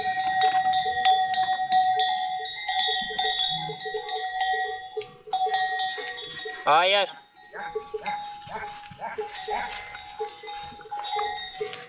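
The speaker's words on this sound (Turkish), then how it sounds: "Kamp alanımı keçiler basmış durumda." Goats swarm a campsite, and their cowbells clang and jingle constantly at close range while one goat lets out a clear bleat partway through, with a person speaking over the livestock noise.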